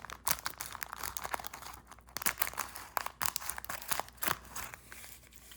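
Scissors snip open crinkly foil wrappers on vintage trading card packs, a close, quiet run of crackling, crumpling and sharp cutting sounds, with no talking.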